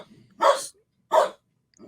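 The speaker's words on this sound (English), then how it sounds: "sorry for the dog barking." A dog gives two sharp, separate barks close by, with a third bark starting at the end and quiet gaps in between.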